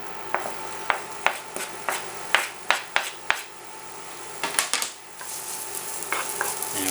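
Finely diced onion frying in a pan, with a rhythmic series of sharp spoon or spatula knocks against the pan over a steady sizzle, followed by busier stirring and louder frying toward the end.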